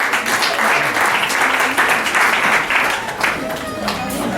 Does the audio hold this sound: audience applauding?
yes